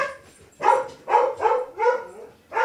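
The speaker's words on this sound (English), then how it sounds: "That dog is losing his fucking mind." A dog barks frantically in a quick run of five loud, sharp barks, close by and alone without talk.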